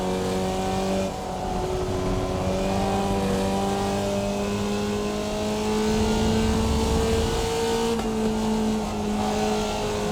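Formula Vee race car engine in iRacing, a steady loud drone with pitch shifts as it works through gear changes, close and continuous.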